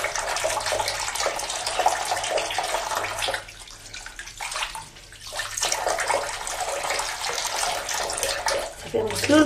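Tap water runs into a sink while a face is washed, a continuous splashing flow that briefly drops away midway before resuming, with a voice speaking over it.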